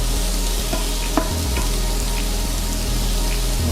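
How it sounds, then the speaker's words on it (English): Peppers and onions sweat in a hot pan with a steady, loud sizzle, while a spoon stirs and scrapes in a few short, uneven strokes near the end. "the peppers and the onions are sweating down"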